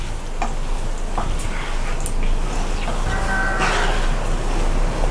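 Steady broadband sizzling of vatha kuzhambu curry simmering in hot oil, with faint bubbling pops and light clicks, continuous and close.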